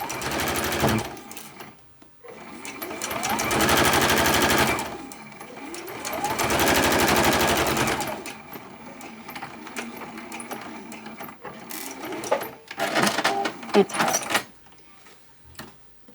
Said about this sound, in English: I'm going to start sewing right about here